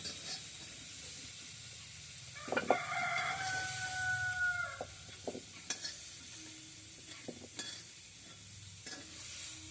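Cauliflower and potato frying in hot oil in a wok, a steady soft sizzle with occasional stirring clatter, while a rooster crows twice in the background.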